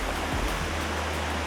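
A waterfall in Sidemen, Bali, spills into small pools at different levels, giving a steady, dense rush of falling water with no voices.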